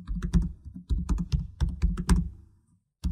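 Rapid keystrokes clatter on a computer keyboard in quick bursts of clicks, close and clear, then stop briefly before one more short burst; no one speaks.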